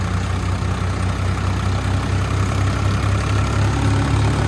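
A tractor engine runs steadily nearby, a loud, even idling drone with a constant low throb and no pauses.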